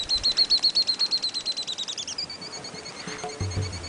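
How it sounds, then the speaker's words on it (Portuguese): Garrincha-chorona wren singing in the Mantiqueira mountains: a rapid series of repeated high whistled notes in a steady trill, then a shorter, softer phrase, with a low thump near the end. "Dizem que aqui tem garrincha chorona. Pelo canto, sabemos que está por perto."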